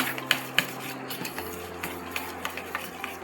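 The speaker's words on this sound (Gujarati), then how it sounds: "આપણે આને મિક્સ કરી લઈશું એકદમ હલાવીને" A spoon clinks against a pot while stirring the roasted sato flour mixture seasoned with salt for Surat-style khaja, a series of light metallic taps at an irregular rhythm, close and fairly quiet.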